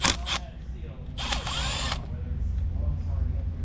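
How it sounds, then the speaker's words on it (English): A power drill or impact tool spins nuts off a car's throttle control area in short bursts of whirring, the longest lasting under a second, close and loud over a steady low background hum. "Let's go ahead and pull these nuts out of here."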